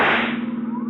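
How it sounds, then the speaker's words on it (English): A rifle shot in an old time radio detective drama during a car chase, a single sharp crack with a short decaying tail under a steady engine hum. "See if you can use that rifle, Dollar"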